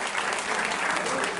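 Loud, dense clapping from a crowd at a Banjara community gathering, sustained and even from start to finish.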